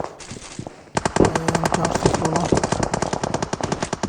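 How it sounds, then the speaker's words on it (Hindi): Rapid automatic gunfire in the PUBG Mobile battle game, loud and close, with long stuttering bursts that start suddenly after a quieter moment and keep going, while someone talks faintly underneath. "बहुत फायरिंग है भाई"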